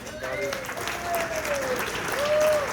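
An audience applauds as an MC walks on stage at a graduation event, dense clapping throughout while someone whoops and cheers over it.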